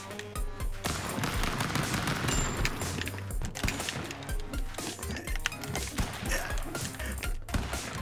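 Rapid gunfire crackles through a Stick Fight match in dense, overlapping bursts, with metallic clinks mixed into the near-continuous din over eight seconds.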